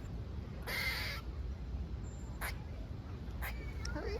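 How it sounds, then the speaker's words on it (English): A squirrel outdoors in Florida gives a longer raspy call, then a few short sharp chirps spaced about a second apart over faint background noise. "He's a chirping squirrel"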